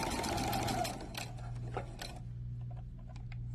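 A sewing machine stitches bias tape to a garment neckline, a steady close mechanical whir with a rapid needle rhythm that eases and stutters into lighter intermittent ticks near the end.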